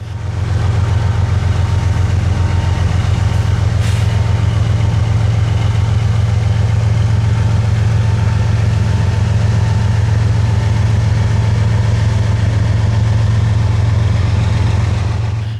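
CSX locomotive 3194, 'Spirit of Our Law Enforcement', idles on the Florida S-Line. Its engine gives a loud, unbroken low drone with a steady rumble that holds evenly from start to finish.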